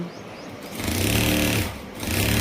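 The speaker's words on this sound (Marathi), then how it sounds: "आज शिलाई मशिनीवर माझं काम चालू झालंय" A sewing machine stitches a blouse, its motor whirring in a steady run that swells louder after the first moment and holds, with a brief dip near the end; no talking.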